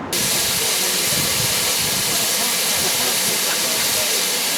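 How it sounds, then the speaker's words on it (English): A loud, steady hiss of steam from an LNER Thompson B1 steam locomotive on a heritage railway, broad and constant throughout with no voices. "The steam locomotive that I'm riding behind is the LNER Thompson B1 61306 Mayflower"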